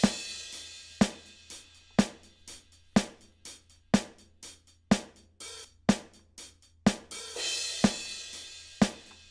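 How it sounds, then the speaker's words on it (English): A drum kit plays hi-hats, cymbals and snare with no kick drum: sharp snare cracks on a steady beat, crisp hi-hat ticks between them and a cymbal wash swelling near the end, for funk production. "So just using the hi-hats and some cymbals and a snare"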